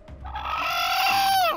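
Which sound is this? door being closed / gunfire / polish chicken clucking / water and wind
polish chicken clucking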